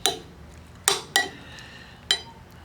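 A spoon mixing smoked brisket chili with mild cheddar cheese in a pot, with a few sharp metallic clinks against the pot rim spaced apart over soft stirring, close and fairly quiet.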